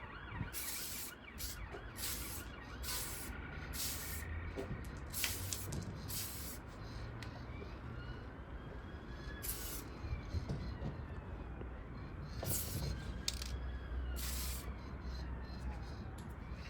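Clear pearl coat is sprayed onto a Suzuki Swift Sport car door outdoors, with a steady close hiss running throughout, punctuated by repeated short bursts and passes, and light wind in the background.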